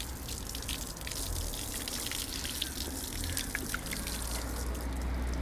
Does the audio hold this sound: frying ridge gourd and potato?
no